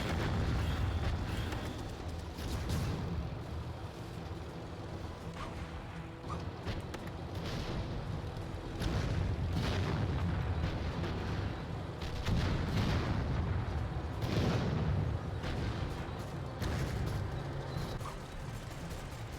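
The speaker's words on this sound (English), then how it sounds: "It's a humongous Heinkel 111. And it's very good at carpet bombing." Carpet bombing by a Heinkel 111 in a WW2 VR strategy game: a sustained, rumbling wall of overlapping explosions and artillery-like thuds, steady and heavy for the whole stretch.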